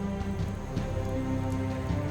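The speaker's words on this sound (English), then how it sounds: "Finally, rain." Rain falling on the African savannah, a continuous full downpour hiss, close and fairly loud, with a low steady tonal bed underneath and no voices.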